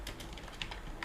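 Quick keystrokes on a computer keyboard while entering text in a WordPress theme settings field, a short run of close, crisp clicks with one or two sharper taps and no talking.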